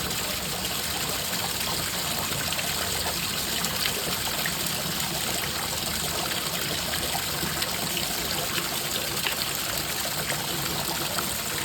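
A washing machine drum steadily fills with water, giving a continuous, fairly loud rushing trickle that holds at an even level throughout with no voices.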